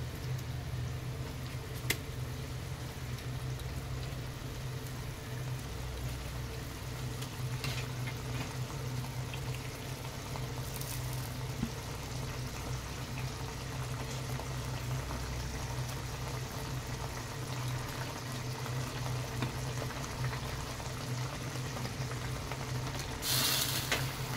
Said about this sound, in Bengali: এবারে ঝোলটা ফুটতে দেব